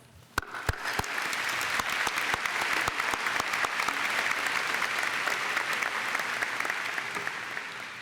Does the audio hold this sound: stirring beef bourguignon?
no